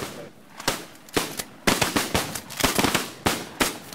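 Shotgun blasts during a duck hunt outdoors: a rapid volley of sharp, loud shots from several guns, irregularly spaced and overlapping.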